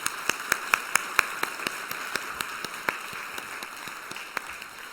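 Sparse, scattered clapping from a church congregation during a Sunday service, a few distinct hand claps standing out over a thin, soft background of lighter clapping that fades within seconds.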